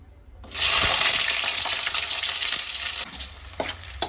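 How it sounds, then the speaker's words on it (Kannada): Chopped onions and green chillies drop into hot oil in a pan and burst into a loud, steady sizzle that holds from the first half-second onward, with a few scraping stirs near the end. "ಇವಾಗ ಎಣ್ಣೆ ಕಾದಿದೆ ಇದರೊಳಗಡೆ ನಾನು ಈರುಳ್ಳಿ ಮತ್ತು ಮೆಣಸಿನ್ಕಾಯಿನ ಹಾಕೊಳ್ತೀನಿ"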